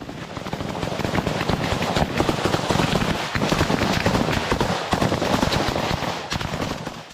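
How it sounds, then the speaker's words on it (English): Sustained, dense rapid gunfire from Ukrainian fighters laying down suppressive fire against Russian positions, continuous and loud throughout with overlapping bursts and no pauses. "The Ukrainian fighters are providing suppressive fire to prevent the Russians from firing back"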